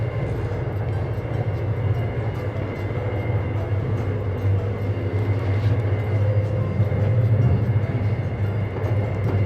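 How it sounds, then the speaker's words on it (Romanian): Steady low rumble of a large Russian passenger train running along the tracks, with continuous rolling noise and faint creaks from the carriage, loud and close throughout without talk. "aici trenul scârție puțin și deranjează"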